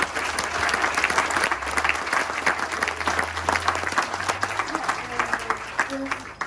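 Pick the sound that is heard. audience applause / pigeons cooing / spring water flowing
audience applause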